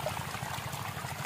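Irrigation water flowing into a village maize field, a close, continuous gurgling trickle and pour that runs steadily for the whole brief moment; no talk.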